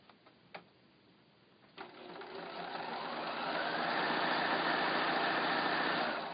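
A sewing machine chain pieces quilt blocks, starting after a couple of clicks and settling into a steady, whirring run of stitching close to the listener.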